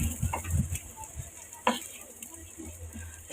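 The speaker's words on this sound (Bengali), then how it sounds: "এখন আমি এটাকে একটু গোল্ডেনে শশা পর্যন্ত ভাজতে থাকি" Dried fish frying in a pan sizzles softly at close range, with faint stirring scrapes and a few light taps against the pan over a low, quiet background.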